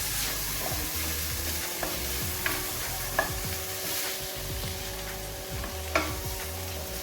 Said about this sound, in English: So 1 big ladle really of the cannellini beans. Just going to mix.